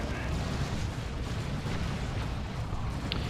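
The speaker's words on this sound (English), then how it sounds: "Let the Galaxy burn along with that is a creeping Basilisk barrage." Artillery in a Warhammer 40,000 game, a creeping Basilisk barrage, rolls on as a steady low rumble of distant bombardment, dense and continuous with no clear separate blasts.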